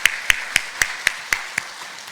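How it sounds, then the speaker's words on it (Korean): Church congregation clapping at a Sunday morning service, a slow steady beat of about eight even, sharp claps in unison, moderately loud with a faint room hum between them and no talking. "우리 함께 박수를 하고 돌리겠습니다"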